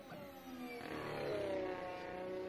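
McLaren Honda Formula race car engine revving at Bahrain in the FSR 2018 sim racing game, a high, smooth whine climbing in pitch through the gears, faint and steady with no talk.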